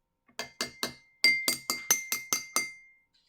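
An empty drinking glass is tapped nine times in a steady, quick series of bright, ringing clinks, each decaying briefly, close and clear with no talking.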